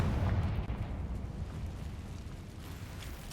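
A Confringo spell explosion in the video game Hogwarts Legacy: a loud, rumbling blast that rolls on as a sustained low roar and slowly fades.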